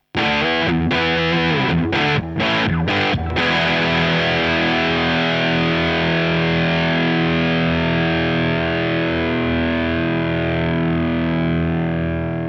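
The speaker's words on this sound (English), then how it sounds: "this distortion is based on a Marshall stack pushed to the max." Loud, heavily distorted electric guitar through amp distortion modeled on a Marshall stack pushed to the max: a few choppy stabs, then a long sustained chord ringing out with thick, saturated crunch.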